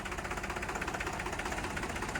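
A Mahindra 295 tractor engine runs at a steady idle close by, with an even, rapid knocking pulse and constant vibration throughout. No voices are heard.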